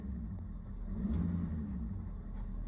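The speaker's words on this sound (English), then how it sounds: "I'm gonna tap the gas" Truck engine revving as the gas pedal is tapped, a low muffled rumble that swells briefly and settles, heard from nearby with no talk.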